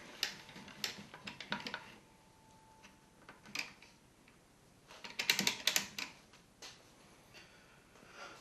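A router table lift being cranked up and down in a woodworking shop, heard as scattered close ticks, clicks and ratcheting rattles in irregular bursts, busiest near the end, over a quiet background.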